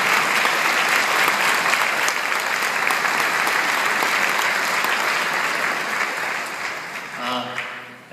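A conference room audience gives long, loud, dense applause that holds steady for several seconds and then fades away, with a voice starting to talk as the clapping dies down.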